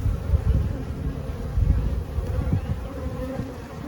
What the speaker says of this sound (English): The continual buzzing you hear are still bees from the first hive that followed the camera and myself over to this package